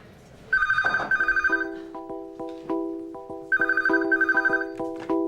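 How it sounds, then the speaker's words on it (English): A telephone bell rings loudly and close by in two double-ring bursts, each shrill trill followed by a ringing tail and a short pause. "A phone call."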